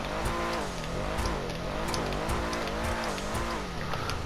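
Engine of a Canis Freecrawler off-road vehicle in the video game GTA Online, revving up and down in several quick rising and falling swells, close and loud, with no talk.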